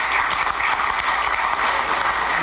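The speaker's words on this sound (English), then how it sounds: "you ought to clap your hands because we got a great victory the other day" Audience applause at a Jesse Jackson news conference in Minneapolis about George Floyd's death: dense, steady clapping from a crowd that fills the whole stretch, fairly loud and close, with no voice over it.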